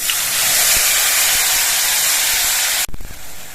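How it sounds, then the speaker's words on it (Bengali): Ground spice paste dropped into hot oil with whole cumin, for a boal fish curry, giving a loud sustained sizzling hiss that cuts off abruptly near the end, followed by softer crackling. "এবার যে মশলাটা আমি পেস্ট করে নিয়েছিলাম সেই মশলাটা দিয়ে দিচ্ছি"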